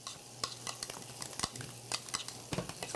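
Bacon sizzles in a pan while a spoon stirs it, a steady frying hiss broken by sharp scraping clacks of metal against the pan, close and fairly loud with no talk.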